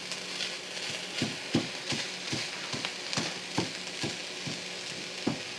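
Ground turkey browning in a pan, a quiet steady sizzle punctuated by regular scraping knocks of a spatula, roughly two per second, close and without talk.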